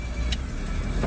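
A small Smart car, sport version, driving along a road, its engine and tyre noise a steady, moderate passing hum over a short stretch, with no talking.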